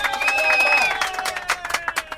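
A crowd at a Colombian independence festival in Miami applauds and cheers, with scattered clapping bursts rising beside a sustained tonal voice or music sound.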